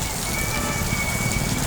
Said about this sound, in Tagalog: Lakas pa rin ang ulan dito.